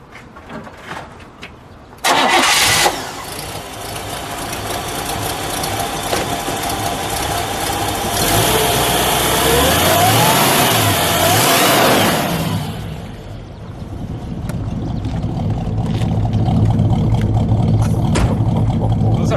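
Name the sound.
1958 Chevrolet Impala engine starting and revving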